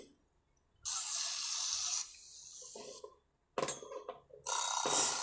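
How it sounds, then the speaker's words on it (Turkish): Running water from a sink tap while hands and face are washed in the My Play Home Plus game, in two bursts of steady gushing with a short clattery pause between them. "Elimizi yüzümüzü bir yıkayalım da. Ben yıkıyorum hemen."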